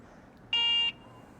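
An aftermarket horn on an electric bike gives one loud, buzzy electronic beep of about half a second, standing out sharply against quiet background hiss.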